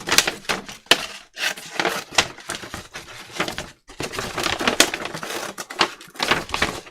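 Close-up crunching and rustling of paper being cut, with uneven bursts of scraping and snipping and short pauses between strokes.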